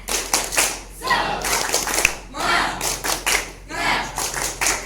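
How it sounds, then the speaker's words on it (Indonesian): A classroom of students doing a rhythmic motivational clap, bursts of hand claps in patterned groups with brief pauses between, loud and close, with some voices mixed in. "Tepuk semangat."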